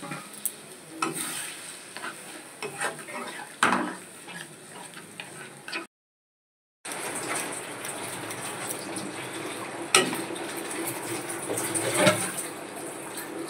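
Spice paste fries and is stirred in a wok, giving a steady close sizzle with scraping strokes of the spoon and a brief silent gap midway.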